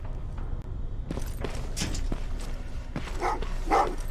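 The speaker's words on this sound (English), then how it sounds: "Oh, what's with the dogs?" Dogs barking in the video game Terminator Resistance, a run of yaps and woofs over a steady game background with thuds and footsteps.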